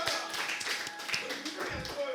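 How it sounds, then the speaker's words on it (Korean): A church congregation gives a short burst of scattered applause, with voices talking over the clapping. "박수 드릴까요?"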